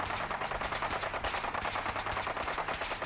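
Gunfire in the video game Fallout 4 rattles in rapid automatic bursts, dense and continuous, at moderate distance and fairly quiet, without any talk over it.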